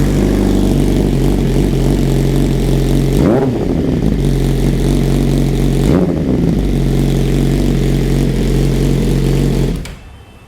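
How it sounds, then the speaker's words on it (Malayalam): A Suzuki GSX-R1000 1000 cc inline-four superbike with an Akrapovic exhaust idles loud and close, then blips its throttle twice in quick snarling revs before settling and cutting off at the end. "ആദ്യം തന്നെ ഇതിൻ്റെ എക്സോസ്റ്റ് നോട്ട് ഞാനൊന്ന് കേൾപ്പിച്ച് തരാം. ഇതിലൊരു അക്രാപ്പോവിച്ചിൻ്റെ എക്സോസ്റ്റ് സിസ്റ്റം കൂടി വരുന്നുണ്ട്"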